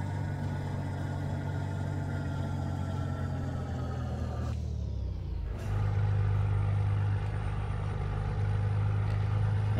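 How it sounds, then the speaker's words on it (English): Heavy truck hauling steel coils on its own trailer in Euro Truck Simulator 2, droning steadily with engine braking on a downhill run; the deep hum dips briefly, then returns slightly louder and holds, with no talk. "Bit of engine braking coming down here."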